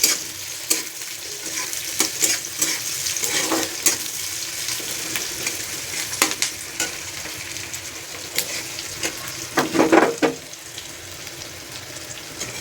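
Drumstick pods stir-fried in a pan over low gas, with a steady soft sizzle broken by scraping stirs and louder spatula clatter near the end, no talk.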